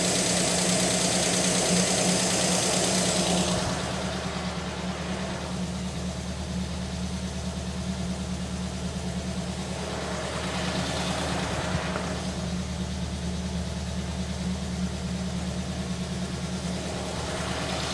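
A car engine idling steadily with a low, constant hum and slight knock, loud and close, its tone easing a little after a few seconds while coolant is being pushed out.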